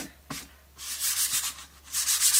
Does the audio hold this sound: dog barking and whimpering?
no